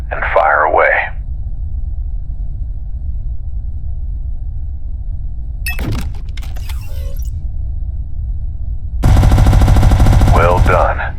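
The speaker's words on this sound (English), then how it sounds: "Now, activate your turret weapon group and fire away." Spaceship turret weapons firing in the SpaceBourne 2 video game, a loud rapid mechanical burst near the end after a quiet rumbling engine hum, with a voice speaking briefly at the start.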